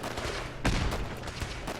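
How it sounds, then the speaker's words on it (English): Pretend gunfire in the video game Fallout 4: a burst of rapid shots centred near the middle, loud and sharp against a steady background of game ambience, with no talking. "this is pretend gunfire"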